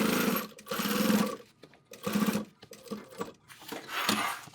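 Sewing machine stitching a sling bag in bursts, a close rattling whir that starts and stops several times with short pauses between runs, and no talking.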